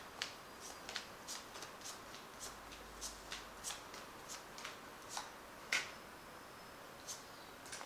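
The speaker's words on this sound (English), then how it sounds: "I'll just cut this deck. Just draw some cards from it." A Romantic Tarot card deck is cut and cards are drawn from it, faint close-up flicks and soft snaps of card stock in an irregular series of about a dozen light taps, with no voice.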